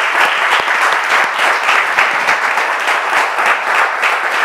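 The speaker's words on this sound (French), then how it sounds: "On peut applaudir très fort pour le pasteur." A church congregation applauds the pastor, a loud, close, steady roar of many hands clapping that holds without a break for several seconds.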